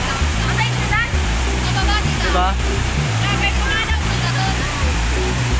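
Clear mountain waterfall at Bulago, Lagayan, Abra, pouring as a loud continuous roar of crashing water with steady broadband rush, while voices talk excitedly over it throughout.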